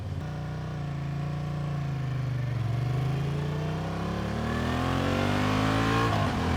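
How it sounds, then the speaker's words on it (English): A 2023 Honda Transalp XL750 motorcycle exhaust under way, a strong mid-pitched engine drone that dips slightly, then rises steadily as the rider accelerates, loud and close with no talking. "I've clipped a microphone onto the back end of the bike, so hopefully we get a nice sound from the exhaust"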